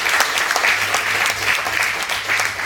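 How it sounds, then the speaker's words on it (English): Loud, sustained applause from an audience at a book launch honouring a respected speaker, many hands clapping in a continuous crowd roar with a faint low hum underneath. "I think we should give him a big round of applause"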